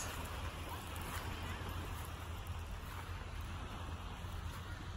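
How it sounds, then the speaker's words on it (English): Ocean waves wash in a steady, broad, hissing roar that holds at an even level throughout, with no clear breaks between swells. "Hopefully you can hear the beautiful waves of the ocean."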